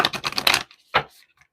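A brand-new tarot deck being shuffled, giving a quick burst of riffling card clatter followed by a single short flick of cards, close and crisp with no talking.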